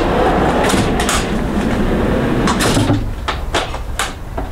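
Loaded storage drawers slide out of an overland rear-cargo build in a first-generation Toyota Sequoia, giving a loud continuous rolling rumble and rattle followed by sharp clacks as they come to a stop.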